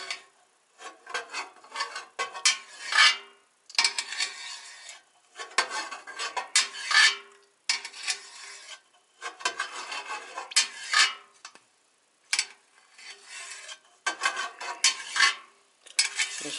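Repeated soft scraping and slicing strokes of a knife cutting cheese curd into cubes in a bucket, coming in short bursts separated by brief pauses, close and fairly quiet.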